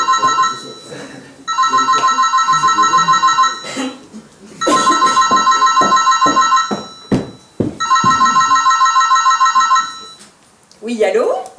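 Electronic telephone ringing in a French stage comedy, three long bursts of trilling tone separated by pauses, loud and close, with someone speaking briefly between and after the rings.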